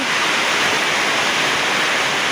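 Water gushing hard from a PVC pipe, a dense, steady roaring rush that stays loud and close throughout with no talking.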